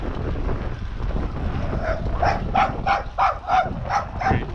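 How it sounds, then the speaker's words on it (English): A dog barks about seven times in a quick, even series near a rural farm village on a mountain trail in China, over steady wind noise and outdoor rumble. "Crazy dog."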